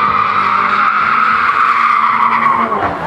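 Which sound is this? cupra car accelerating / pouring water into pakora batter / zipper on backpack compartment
cupra car accelerating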